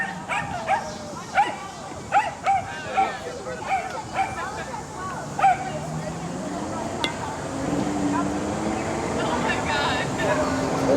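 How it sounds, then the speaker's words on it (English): A dog at a heel training session gives a run of short, evenly spaced barks and yips, then quiets as a steady noise of wind or an engine builds underneath. "There's another dog on your left, Charlie."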